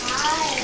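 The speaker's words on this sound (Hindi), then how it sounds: "ये कॉर्न्स मैं इसमें डालना स्टार्ट करूंगी" Corn kernels pour into a pot of liquid with a steady, dense hissing splash, close and moderately loud for a brief moment with no talk.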